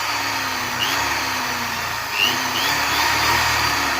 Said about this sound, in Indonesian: Oke, kita tambah bor, cuma 400 watt, 800 watt ya.